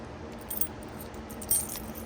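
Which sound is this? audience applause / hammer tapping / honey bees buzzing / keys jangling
keys jangling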